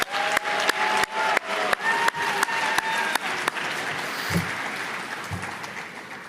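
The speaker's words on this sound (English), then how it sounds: "let's give another round of applause for Kieran" An audience at a Turning Point USA event at George Washington University breaks into applause, with a few loud nearby claps over a dense crowd clapping that thins out toward the end.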